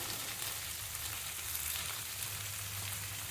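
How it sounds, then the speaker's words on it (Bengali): Flat beans fry in hot oil without water, producing a steady, dense sizzle that crackles evenly and close throughout, with no voices. "এমনি তেলের মধ্যে আমি ভেজে নেবো সিমগুলো"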